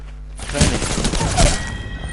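Bursts of rapid gunfire in Apex Legends on PS4 crackle and thump over a steady hum of game audio, loud and close, with a brief lull between volleys.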